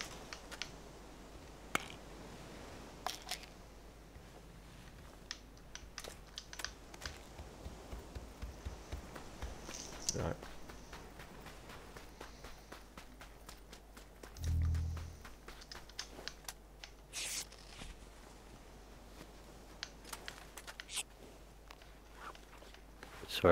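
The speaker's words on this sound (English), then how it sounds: "Sorry, I just heard footsteps." Footsteps in the video game PUBG, light scattered taps under quiet ambient game sound with a few sharper clicks, faint and intermittent.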